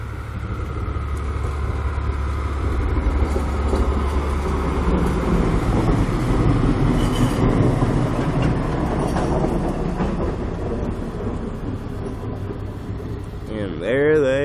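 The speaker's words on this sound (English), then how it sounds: "even more track equipment coming by" Rail track maintenance vehicles rumble and clatter past nearby in a long steady roar, with faint wheel clicks along the track, fading slightly at the end.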